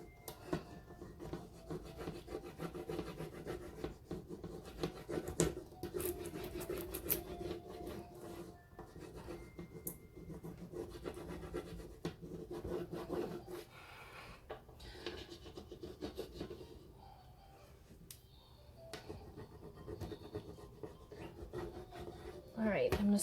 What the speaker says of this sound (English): So I'm pressing down, rubbing it